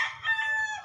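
An injured rooster gives one short, loud crow close by, a single rising then held call with no other sound around it.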